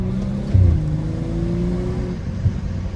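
Tuned BMW 335i with a stage 2 exhaust idles with a steady low drone, then gives two short blips of revving with a brief burble, heard close and alone without talk.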